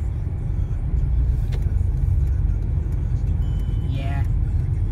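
A Porsche Panamera S driving away, a steady low engine rumble and road noise that holds throughout, with a faint whistle or squeal near the end and no clear talking.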